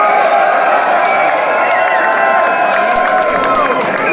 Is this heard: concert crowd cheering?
yes